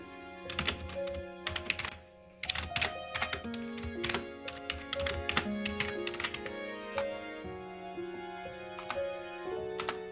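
Fast, close typing on a computer keyboard while writing a chat message: dense, irregular clicking keystrokes with a few heavier key thunks, running steadily with no speech.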